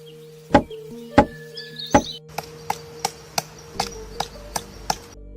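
A pileated woodpecker strikes wood in single sharp, evenly spaced knocks, about one every half second, with a steady tonal hum running underneath.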